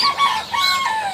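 A farm chicken gives a short burst of agitated clucks and squawks while being handled, close and fairly loud, two or three rising calls in quick succession.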